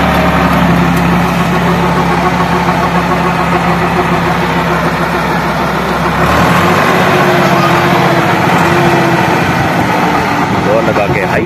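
A tractor engine idles steadily while a trolley of bricks is unloaded, a continuous low rumble that drops in tone partway through, with voices talking over it.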